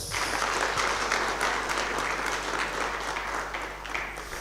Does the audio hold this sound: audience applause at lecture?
yes